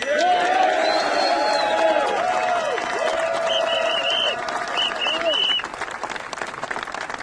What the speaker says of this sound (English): So please welcome another ILA round of applause for our brother David Gonzalez